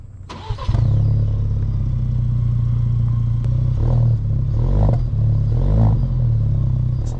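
A 2021 Roush Ford Ranger pickup starts up and drives, its engine rumbling steadily and close with a few swells of acceleration and no speech.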